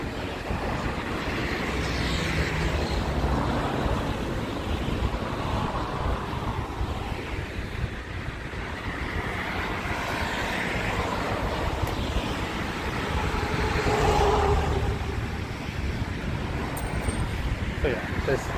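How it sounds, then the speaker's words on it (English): Steady roadway noise from a busy highway in Kawasaki at sunset, a continuous broadband rush of passing cars with slow swells as vehicles go by, heard outdoors with some wind buffeting the microphone. "the noise from this highway is one of the less great things about living around here"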